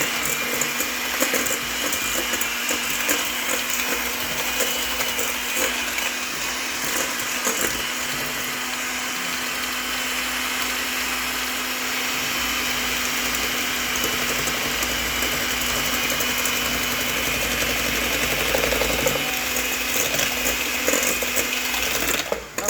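An electric mixer creams butter and sugar with a steady motor whine that holds at one pitch for over twenty seconds, with faint rattling against the bowl.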